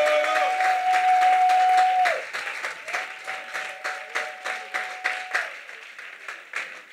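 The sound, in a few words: congregation applauding during prayer service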